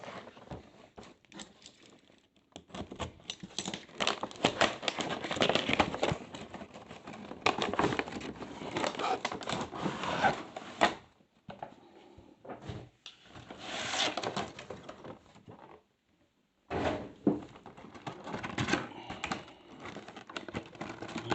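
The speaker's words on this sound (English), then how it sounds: "you can undo the cab from the trailer." Small plastic clicks, rubbing and scraping as the cab of a 1/64 scale Jing Bang Kaidiwei toy cement truck is worked loose from its trailer, in irregular close bursts with short pauses.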